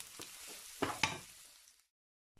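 Onion cooks in hot oil in a Filipino kitchen, a soft crackling sizzle with a few sharp pops and stirring clatters near the start, fading out after under two seconds.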